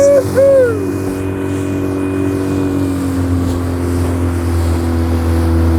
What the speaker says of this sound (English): Here's full throttle. Full throttle.